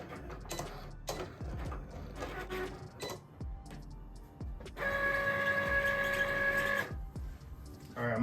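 A vinyl cutting machine slices a sheet of puff heat transfer vinyl, giving a run of mechanical whirs and clicks that turns into a steady tonal motor hum near the end, with no talk.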